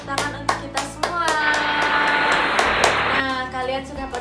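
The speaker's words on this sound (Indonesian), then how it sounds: "Tepuk tangan untuk kita semua" A fourth-grade class claps hands in a rhythmic classroom cheer, with sharp claps at first and then a dense burst of clapping and children's voices before it settles under a teacher's talk.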